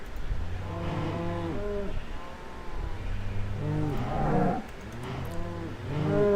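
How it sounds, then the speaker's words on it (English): Cows mooing repeatedly outdoors, several long, loud, drawn-out moos overlapping one another in steady succession, with no talk over them. "oh, it's the cows."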